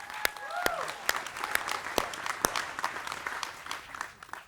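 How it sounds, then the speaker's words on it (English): Applause from an audience at a cruise ship christening for Regent Seven Seas Grandeur, steady dense clapping with sharp individual claps standing out, a few whistles early on, sustained throughout at a moderate distance. "Let's give them a second round of applause."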